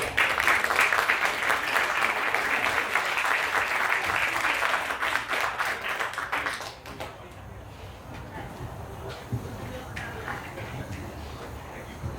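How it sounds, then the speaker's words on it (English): Crowd applause at a ribbon-cutting for a hospital's tenth anniversary celebration, a dense steady clapping for about seven seconds before tapering into quieter scattered claps and murmuring voices. "let's give them a huge round of applause"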